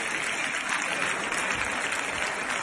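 Applause in the Colombian Congress, a dense, steady wash of clapping from many hands in a large chamber, continuous and fairly close throughout.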